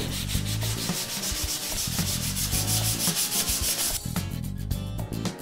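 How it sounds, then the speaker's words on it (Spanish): Wood is sanded by hand with sandpaper while building a wooden bottle opener, a loud rhythmic rasping of back-and-forth strokes, close up and without speech. "Para eso elijan su lija de madera y denle un acabado parejo a toda la madera."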